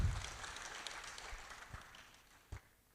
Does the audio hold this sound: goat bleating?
no